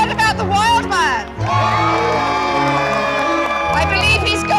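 At a jousting tournament, a crowd roars and whoops for the Wild Man, with children's shrieks and rising shouts forming a dense, loud wall of voices that dips briefly before surging again.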